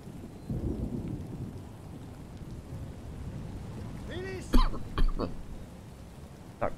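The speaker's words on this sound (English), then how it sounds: "fighting in the rain" Rain and thunder on a battlefield in Total War: Napoleon, a low rumbling storm with steady rain hiss and a few sharp louder bursts near the end.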